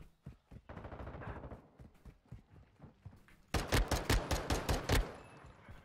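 Modern Warfare 2 gunfire in gameplay, first a run of quicker, softer shots, then louder, punchier single shots in a rapid, slightly uneven rhythm.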